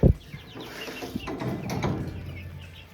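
Chickens cluck and murmur softly throughout, several birds at once, with a brief thump at the start and no talking.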